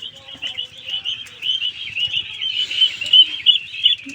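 Caged birds chirp and tweet in a steady, fairly close chorus of high, busy calls, growing slightly denser and louder toward the end, with no voices.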